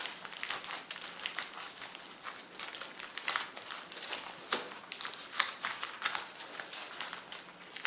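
Aluminum foil being burnished and smoothed over a paper mache goose form, a steady close crinkling and rubbing texture with irregular sharper crackles throughout, no voices.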